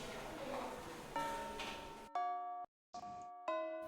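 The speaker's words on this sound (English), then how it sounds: "The bell to start homeroom rings." A school bell chime for homeroom in the visual novel Fate/Stay Night, a sequence of clear ringing electronic tones with a brief gap between them, rising out of soft background music.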